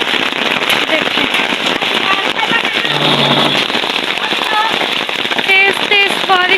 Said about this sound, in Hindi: देखें कितनी अच्छी तेज तेज बारिश हो रही है और मैं ये छतरी लेके खड़ी हूँ